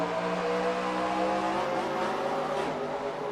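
In-car engine of a race car in a racing video game, a loud, steady high-revving drone with shifting pitch and no pauses.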